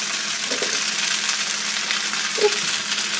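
Vermicelli spaghetti frying in a pan, a steady close crackling sizzle with a couple of faint clinks from utensils, no talk.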